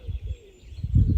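Birds call faintly in a forest under a blue sky, with a thin chirping line and a few soft low coos, distant and brief amid outdoor rumble.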